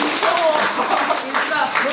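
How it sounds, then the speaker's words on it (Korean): Audience clapping at a university career talk for graduates, a brief burst of steady hand claps from a seated group filling a large room, with voices mixed in. "박수 한번 쳐주세요"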